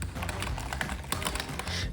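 Fingers type on a MacBook Air keyboard in quick, irregular bursts of soft, close clicks and taps that carry on steadily with no talking.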